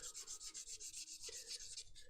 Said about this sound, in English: I'm trying to smooth and blend away any scratches left by the sanding sponge and the file.